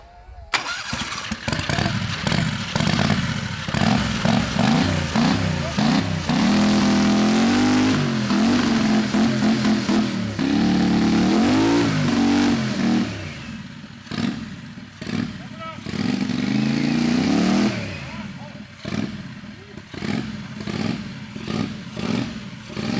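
Turbo 670 V-twin motorcycle revving hard on a dyno to warm the tire, a loud sustained engine roar with rising and falling pitch sweeps and brief pauses between pulls, voices talking over parts of it.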